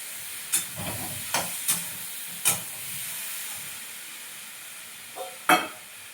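Large pieces of bottle gourd and Chandramukhi potatoes sizzle in a pan. A soft steady hiss is broken by several sharp clinks of stirring, close and clear, with no talk.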